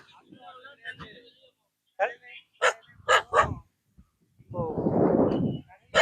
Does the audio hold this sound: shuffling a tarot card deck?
no